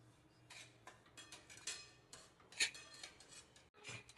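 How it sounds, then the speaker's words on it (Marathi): Semolina stirred in ghee in a pan over low heat, soft repeated scraping strokes of a spoon against the pan with a few light clinks, faint and close. "मस्त हलवत राहायचं."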